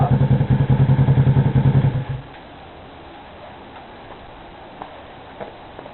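Kawasaki EX-500 parallel twin motorcycle engine idling with a fast, even pulsing beat, then cutting off abruptly after about two seconds, leaving near silence with a few faint ticks.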